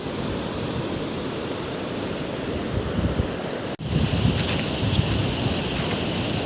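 Swift water surges continuously near a pond bank, a close, loud rushing wash that cuts out for an instant midway and then resumes slightly stronger.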